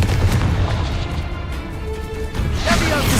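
Confringo blasting curse cast in Hogwarts Legacy: a loud booming impact with a crashing burst, followed by a rumbling tail and a fresh whooshing blast near the end, with no one speaking.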